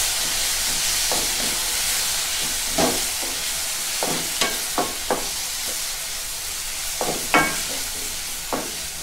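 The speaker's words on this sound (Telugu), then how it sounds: "వేసేసి దీన్ని అంతా కలిసేటట్టుగా కలుపుకుందాం." A tomato, chili and turmeric mixture is stirred in a hot pan over a constant sizzling hiss, with a spoon knocking the pan in a handful of scattered taps.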